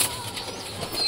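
A pigeon flaps its wings in a quick, close flurry of soft feathery beats as it is being caught, lasting about a second.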